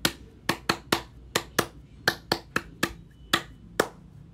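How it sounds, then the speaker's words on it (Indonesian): Rhythmic tepuk pramuka scout clapping, a patterned run of about a dozen sharp hand claps in quick groups, close and crisp with no talking. "Tepuk pramuka."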